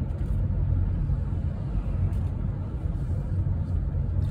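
Steady low rumble of a car cruising along a road toward a gas station, heard from inside the cabin, continuous and even throughout.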